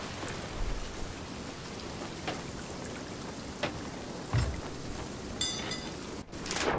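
Rain falling in a pirate video game, a continuous patter and hiss of drops on surfaces with a few louder splashes and thumps, steady throughout and without speech.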